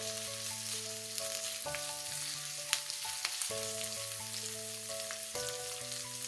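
Onion with garlic and ginger paste sizzles steadily in a pan as it is stirred, with a soft crackle and occasional scrapes, while calm background music plays.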